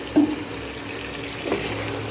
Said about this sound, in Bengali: এবারে জলও দিয়ে দেবো।